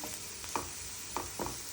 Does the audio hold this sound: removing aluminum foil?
no